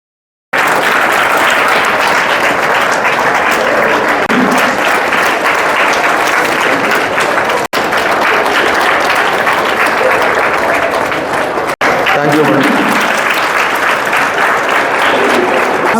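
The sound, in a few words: audience applause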